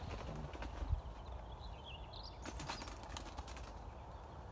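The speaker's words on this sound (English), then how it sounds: "I keep missing that pigeon." A pigeon's wings flap in a brief burst of fluttering beats, followed by rustly movement and a few faint chirps against an outdoor background.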